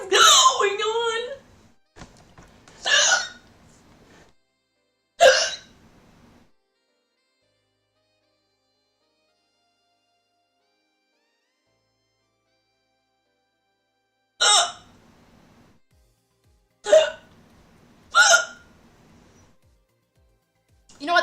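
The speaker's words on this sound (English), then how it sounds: "Oh, that was a hiccup." Sharp, abrupt hiccups burst out one at a time, a few at the start and a cluster near the end, separated by long silent gaps, close and fairly loud.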